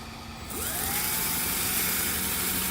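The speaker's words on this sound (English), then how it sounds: "I figured out that I could chuck it in my drill" A power drill whirs up to speed and keeps spinning steadily, with a rough abrasive hiss of sandpaper held against a Jeep CJ-7 brake part in the chuck, close by.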